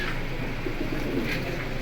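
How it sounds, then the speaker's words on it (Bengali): A purple silver pigeon coos softly and steadily, the low murmuring call continuing throughout at close range with no talk. "এটা একদম বেগুনি কালার সিলভার কবুতর"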